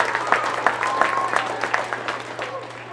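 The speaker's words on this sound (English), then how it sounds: "Students, please give one more round of applause for your teachers" An audience at a school DARE graduation gives scattered, moderate applause for the teachers, with separate claps standing out and a faint tone underneath.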